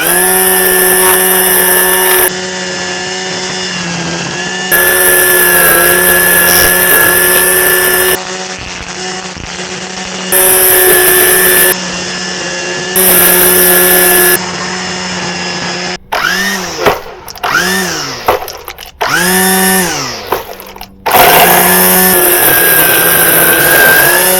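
WILD BADGER 40V cordless weed wacker cutting dead grass along an edge, a loud high electric whine revving up and down in repeated bursts, with choppier stuttering pulses in the middle stretch, close to the listener.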